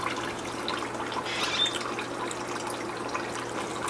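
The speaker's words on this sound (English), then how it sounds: "This here is a 500 gallon per hour fountain pump from Total Pond." A Total Pond 500 gallon per hour fountain pump, model MD 11500, runs in a solar-heated aquaponic setup, giving a soft steady trickle of water over a low continuous hum, faint and unbroken.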